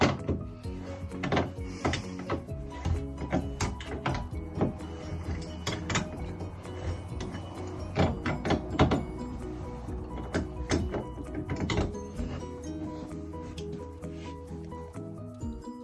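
Repeated rubbing, creaking and clunking as a fastener is tightened on a 2x4 board braced over a window with rags wrapped around its ends, a run of close, uneven turns and knocks.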